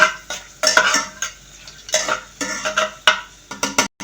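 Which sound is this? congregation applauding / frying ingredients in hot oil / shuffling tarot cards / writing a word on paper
frying ingredients in hot oil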